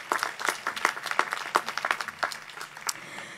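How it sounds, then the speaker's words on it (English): Graduates and their families applaud at the Oglethorpe University Class of 2021 commencement, a steady patter of many hands clapping with sharper individual claps standing out, fairly close and thinning toward the end. "give yourselves a round of applause"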